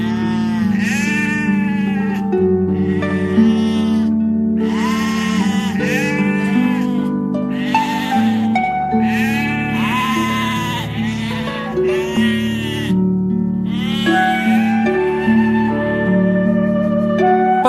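Sheep bleat over and over, with wavering, overlapping cries from several animals layered above a steady low tonal bed. The bleating is loud and continuous throughout, with no speech.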